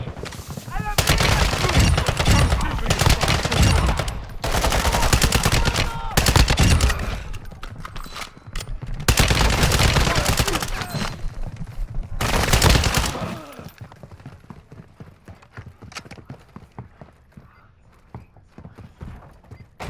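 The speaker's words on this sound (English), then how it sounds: "Taking effective fire." Bursts of automatic gunfire in a Call of Duty hostage-rescue mission, loud repeated volleys in several spells over about thirteen seconds, with speech mixed in, then a quieter tail of low rumble.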